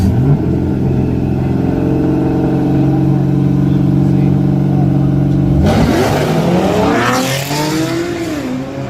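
A drift car holds a loud, steady engine drone, then revs hard and accelerates away with a rising, wavering howl and a hint of tire squeal, with no talking.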